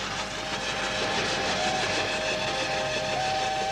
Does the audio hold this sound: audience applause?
no